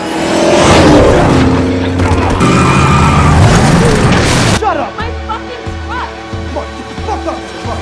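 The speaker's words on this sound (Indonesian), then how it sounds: "tiba-tiba sebuah mobil yang dikendari oleh Dale berusaha untuk menabrak dan membunuhnya" In a film scene, a car skids loudly on a bridge as it swerves to run someone down, a harsh sustained roar lasting several seconds, followed by music and narration.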